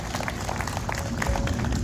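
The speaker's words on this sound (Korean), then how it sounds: "큰 박수 부탁드립니다." Audience applause at a Korean ceremony marking the 20th anniversary of Yongdam Dam impoundment, a steady, dense crowd clapping that fills the whole moment with a continuous wash of hand claps.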